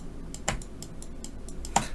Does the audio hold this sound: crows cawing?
no